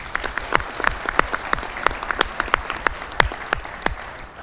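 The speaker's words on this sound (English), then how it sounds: "Please give a round of applause for Councilman Christopher Phillips." An audience claps steadily through an inauguration ceremony for a town council, with dense overlapping hand claps and sharp individual claps standing out in the near field, sustained throughout without talk.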